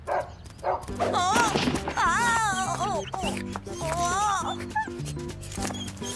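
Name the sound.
dog barking and whimpering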